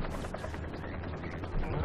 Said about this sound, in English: See, it's a shotgun.